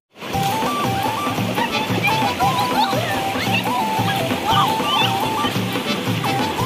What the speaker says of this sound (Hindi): पानी का बहाव इतना तेज है कि पानी खुद ब खुद नीचे ले जा रहा है